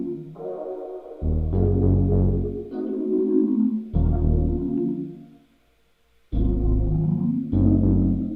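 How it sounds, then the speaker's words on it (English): Plucked bass synth from Analog Lab playing a short pattern of deep, punchy notes with gaps between phrases, loud and up front with no voices. "It's a little plucked bass from Analog Lab."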